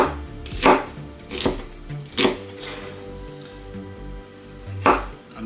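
A knife chops an onion on a cutting board in four sharp, separate strokes spaced unevenly over a few seconds, each one a crisp close thud, with no talk.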